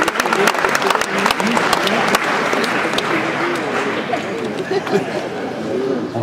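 An audience at a science-fiction festival awards ceremony applauds a guest called to the stage, sustained loud clapping from a large crowd with voices and chatter mixed in.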